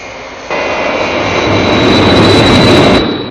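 Airliner jet engines on a 1967 Captain Scarlet soundtrack start abruptly after a brief lead-in and swell into a loud, sustained roar that climbs in pitch and intensity, then begins to fade near the end.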